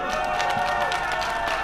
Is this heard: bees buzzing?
no